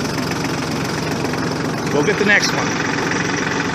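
A Massey Ferguson 1433 4x4 compact tractor idles steadily close by, a low rumbling drone while someone speaks briefly over it.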